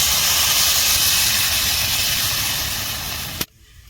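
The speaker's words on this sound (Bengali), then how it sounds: "আমি এখন দুধটা ঢেলে দেবো।" Milk hits hot fried rice in a pot with a loud, steady sizzling hiss that fills the moment, then cuts off abruptly, leaving only a faint low simmer.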